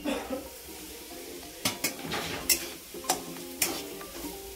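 Semolina is stirred into dalda in a pan. A spoon scrapes and clinks against the metal several times over a low sizzle, with no talking.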